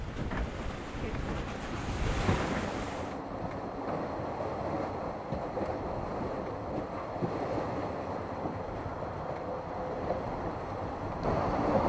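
Waves and wind while sailing the yacht Luckyfish: continuous rushing water along the hull and gusty wind buffeting the microphone, fairly quiet and steady throughout.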